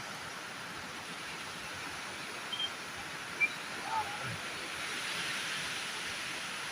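Steady broadband rush of a waterfall in New Zealand bush, loud and continuous with no breaks, a few faint brief sounds rising briefly above it.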